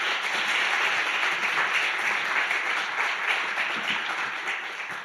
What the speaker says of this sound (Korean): 하나님께 영광되고 우리 목사님께 환영의 박수 드리겠습니다